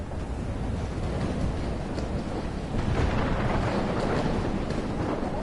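A fire flares and blows up in Life Is Strange, a broad roaring rush that swells slightly midway and stays loud and steady throughout, with no talking.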